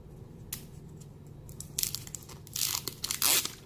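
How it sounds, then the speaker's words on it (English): Protective plastic film is peeled off a new Xiaomi Mi Mix 2 phone, giving close, crisp crackling and tearing bursts that grow louder toward the end. "My favorite part, peeling off that plastic film."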